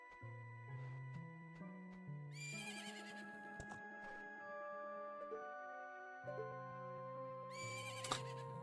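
A horse whinnies in Majora's Mask 3DS with a high, shrill burst, under quiet game music that plays throughout. A second whinny comes near the end, over light ticking clip-clop sounds.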